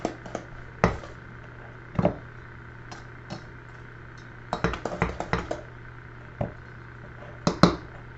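Coffee cake batter stirred by hand in a bowl, heard as sparse, uneven clicks and scrapes of a utensil against the bowl, spaced a second or so apart and fairly quiet, with no talking.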